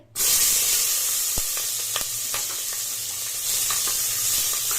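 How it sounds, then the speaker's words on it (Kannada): Chopped capsicum hits a hot pan and sizzles loudly at once, a dense, steady frying hiss with occasional crackles and stirring ticks, close up. "ನಾವು ಕಟ್ ಮಾಡಿ ಇಟ್ಟಿರೋ ಕ್ಯಾಪ್ಸಿಕಮ್ನ ಹಾಕೋತಾ ಇದ್ದೀನಿ ಫ್ರೈ ಮಾಡ್ಕೊಳ್ಳೋದಕ್ಕೆ"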